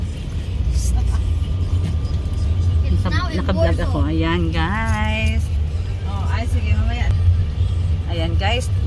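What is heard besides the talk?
heavy city traffic in Cebu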